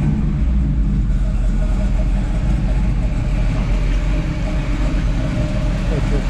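A 1969 Chevrolet Camaro SS with a matching-numbers 396 V8 idles after warming up, giving a loud, steady, deep rumble that holds without a break, close to the car.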